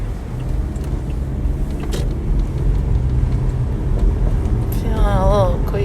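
Interior of a moving car: a steady low road rumble and engine drone fill the cabin throughout, with people talking softly over it.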